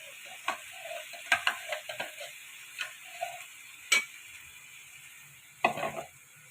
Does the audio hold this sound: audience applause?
no